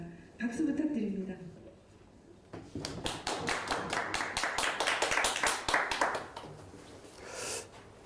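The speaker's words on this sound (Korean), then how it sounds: "박수 부탁드립니다." A live audience at a Goyang civic policy forum claps for a speaker taking the podium. A voice talks briefly, then a few seconds of sparse, moderately loud hand claps follow and taper off at the end.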